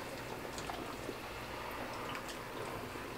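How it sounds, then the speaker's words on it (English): Spaghetti stirred in a pot of boiling water gives a steady, close bubbling hiss with soft watery churning throughout, with no voices. "Give that a quick stir."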